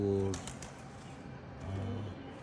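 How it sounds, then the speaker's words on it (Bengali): Low, soft cooing of high-flyer pigeons indoors, two short bouts with a pause between, under a steady murmur of background noise. "কিছু কবুতর আছে এই ঘরের ভিতরে"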